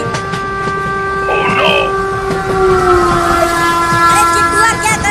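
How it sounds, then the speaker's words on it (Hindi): Two cartoon trains approach each other on the tracks, horns blaring in long sustained blasts with shifting pitch over a rolling rumble of wheels, loud and close, with a voice heard briefly. "लगता है अब दोनों ट्रेन की टक्कर होकर रहेगी।"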